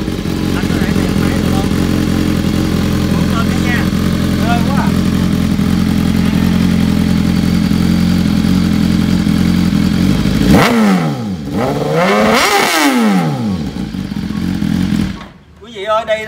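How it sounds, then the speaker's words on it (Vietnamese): A 2019 BMW 'shark' sport bike idling with a steady loud exhaust rumble, then revving sharply twice with rising and falling engine pitch, close by, before dropping off. "Bây giờ em có thể cho anh nghe được tiếng bô được không?"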